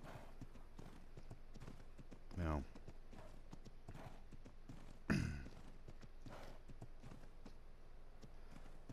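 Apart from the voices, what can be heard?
horse hooves clip-clopping in the video game Ark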